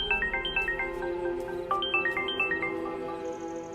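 A phone ringtone in a Hindi-dubbed Malayalam film plays a bright, repeating melodic pattern of short chiming notes at a steady rhythm, fairly close and clear, with no talking over it.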